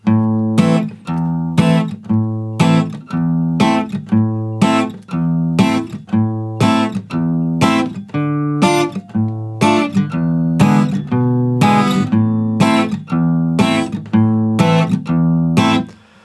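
A guitar plays a repeated picked chord pattern with a clean, steady rhythm, notes ringing close and fairly loud throughout with no voices.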